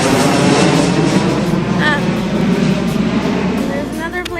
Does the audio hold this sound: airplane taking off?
yes